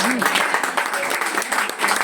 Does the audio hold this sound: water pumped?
no